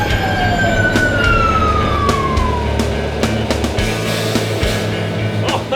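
A passing emergency vehicle siren wails loudly with a falling pitch as it goes by, over heavy traffic rumble and scattered clatter, near and dominant throughout.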